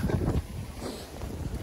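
Wind buffets a microphone outdoors on a Turkey Trot walk, producing a steady, low rumbling roar that gusts up and down with no clear talk.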